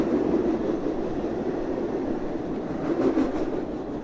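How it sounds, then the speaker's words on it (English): A train rumbles steadily past at a Long Island station in Mineola, loud and close, with a continuous rolling roar and faint clatter that swells slightly near the end. "There's my train."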